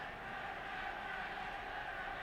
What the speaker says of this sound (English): Home crowd trying to lift their team.